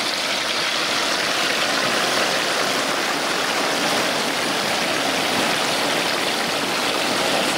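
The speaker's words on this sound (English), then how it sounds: "Cool down, let the bubbles subside a little bit." A whole turkey sits in hot frying oil, and the oil bubbles and sizzles in a loud, steady, hissing roar that runs unbroken throughout, with no talk.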